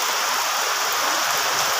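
Heavy rain pours down steadily on a monsoon day, a dense, loud and continuous hiss with no breaks and no voices over it.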